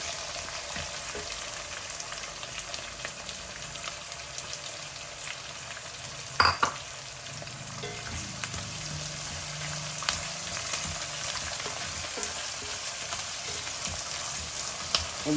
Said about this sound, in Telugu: పల్లీలు వేగిపోయాయి ఉల్లిపాయలు వేసేస్తున్నాను